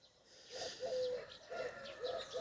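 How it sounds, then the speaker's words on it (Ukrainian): A pair of pigeons sitting on a chimney coo in repeated soft phrases, fairly faint and distant, in a spring outdoor setting with no voices. "Голуби співають, воно літають."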